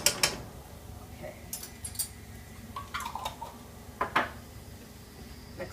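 Chicken pesto stirred with a utensil in a pan, giving scattered clinks and scrapes of metal against cookware at close range over a low background hum.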